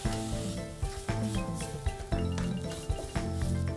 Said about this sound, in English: While that is being sauteed,